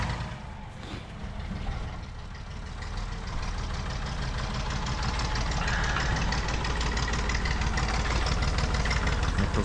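A tractor engine runs steadily while driving, a continuous loud mechanical rumble with a rattling knock that holds throughout, close by and with no talk over it.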